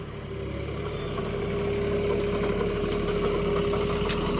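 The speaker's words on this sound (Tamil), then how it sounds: "லோடு வாங்கினா இன்ஜின் சவுண்டு எப்படி இருக்குது" A John Deere 5050 D 4x4 tractor engine runs steadily in second gear under load pulling a rotavator, a constant, throaty drone with a low rhythmic chug, close and continuous throughout.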